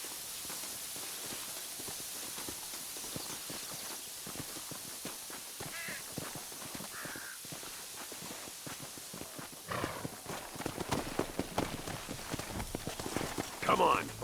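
Horses' hooves clip-clop in the Western video game Red Dead Redemption, a steady run of hoofbeats that grows louder and busier toward the end, with a short whinny near the close.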